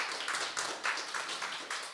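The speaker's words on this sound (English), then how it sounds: "Applause." Audience at a tech pitch competition claps in a steady round of applause, brisk overlapping hand claps with a regular pulsing rhythm, fairly close and without talk.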